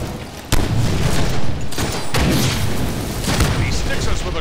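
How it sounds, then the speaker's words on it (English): A grenade explosion in a Deadpool video game, with a sharp loud boom followed by several more blasts and crackling bangs amid game noise, close and punchy. "He sticks us with a grenade"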